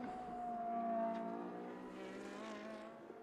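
A Ferrari 458 race car pushed hard at Imola howls at high revs with a sharp tonal engine whine. The pitch rises, then slides down as the car passes at a distance, fairly faint.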